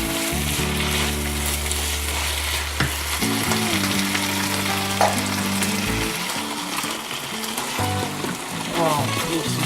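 Beef and broccoli stir fry with green onion sizzling loudly in a pan, a steady frying crackle with stirring scrapes and a low hum running underneath.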